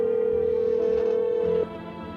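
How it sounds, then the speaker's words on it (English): A phone call to the neighbor in a video game: a steady, loud electronic ringback tone holds for about a second and a half, then cuts off, leaving a quieter background hum. "Let's actually call the neighbor."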